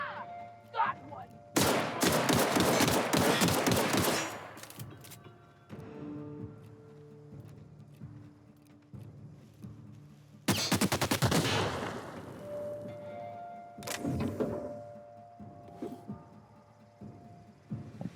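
Plasma rifle fire in The Outer Worlds, two long loud bursts of rapid shots separated by quieter stretches with tonal game sounds, and a later shorter burst; a voice speaks at points.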